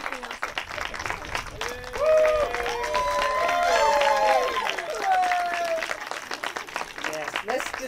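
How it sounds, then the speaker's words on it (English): An outdoor crowd at a college groundbreaking ceremony claps for several seconds, with scattered cheers and voices rising over the clapping. "let's just give them another round of applause"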